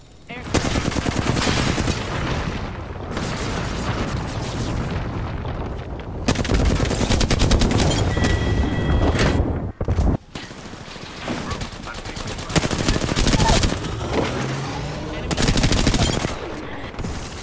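Rapid gunfire bursts from weapons in the Apex Legends video game, loud and dense with brief gaps, overlapping automatic fire and sharp shots, with some voice chatter mixed in beneath.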